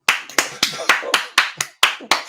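Nine or so loud, evenly spaced hand claps, close and distinct, each one a crisp slap followed by a short decay.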